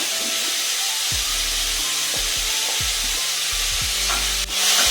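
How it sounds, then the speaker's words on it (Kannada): Onion, salt and turmeric powder sizzle steadily in a small amount of hot oil in a pan. A constant loud hiss runs throughout, with a spoon scraping and stirring at regular intervals and no talking. "ಈಗ ಇದರಲ್ಲಿ ಈರುಳ್ಳಿ ಜೊತೆಗೇನೆ ಉಪ್ಪು ಹಾಕ್ಬಿಡ್ತೀನಿ ಮತ್ತು ಅರಿಶಿನ ಪುಡಿನ"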